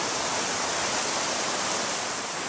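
Water rushing through a good-sized irrigation canal on a ranch, a steady, dense hiss of flow heard up close with no pauses or voices.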